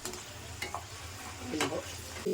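Dal (lentils) being stirred in a pan for bakery-style kara kallai, with soft scraping strokes and a faint sizzle close by, a few distinct stirs standing out.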